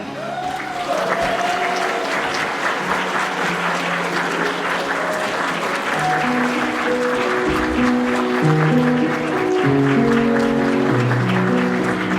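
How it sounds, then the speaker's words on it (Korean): Wedding guests at a ceremony applaud in a sustained burst of clapping from a room full of people, steady throughout, with background music playing underneath. "박수 부탁드리겠습니다."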